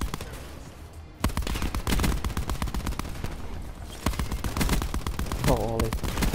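The Titan gun rattles in dense, rapid automatic bursts in the Black Ops 4 shooter, loud and close, with brief pauses between volleys and other gunfire mixed in. A voice cuts in near the end.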